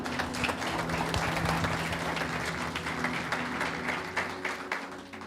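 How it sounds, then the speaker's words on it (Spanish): A church congregation claps steadily and densely for the whole stretch, with sustained musical tones held underneath. "Démosle un aplauso al Señor."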